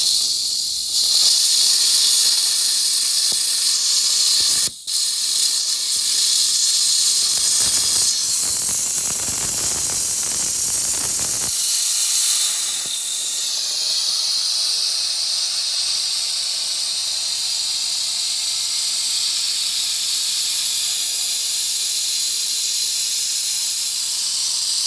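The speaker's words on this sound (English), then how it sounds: "Go ahead and undo our drain. It's just filled up, so we'll empty the whole tank of air." Compressed air rushing out of an air compressor tank drain, a loud, steady, close hiss that runs almost unbroken with a brief interruption and shifting pitch as the tank empties.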